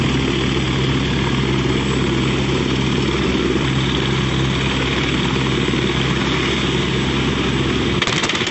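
A helicopter's rotor drones continuously nearby at the side of a road, a dense, steady roar with a pulsing low end that cuts off abruptly near the end.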